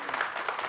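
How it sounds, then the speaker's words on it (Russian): A brief burst of studio audience applause during a televised Russian lottery draw, a fairly faint patter of clapping. "Вам аплодируют, даже это смело"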